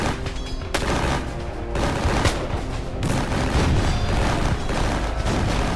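Dense battlefield gunfire from a War of 1812 battle at New Orleans, with a continuous fusillade of musket shots and booming cannon fire, loud and chaotic throughout without pause.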